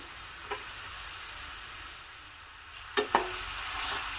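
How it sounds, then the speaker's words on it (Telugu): Finely chopped green chillies and onion pieces fry in a pan for egg keema curry, a steady faint sizzle with a couple of quick spatula scrapes near the end. "పచ్చిమిరపకాయలు ఉల్లిపాయ ముక్కలు కూడా గోల్డెన్ బ్రౌన్ కలర్లోకి వేగాలండి"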